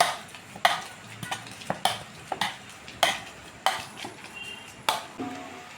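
A spoon mashes spiced potato filling with salt and mustard oil in a bowl for an egg roll, making a run of sharp, irregular scraping knocks against the bowl over quiet background noise.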